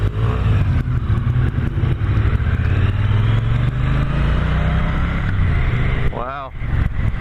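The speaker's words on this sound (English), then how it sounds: "Today I'm ripping up on a T120 Triumph Bonneville." A 2016 Triumph T120 Bonneville motorcycle rides steadily along a road, its engine a continuous low drone with rough wind buffeting, while a rider talks over it throughout.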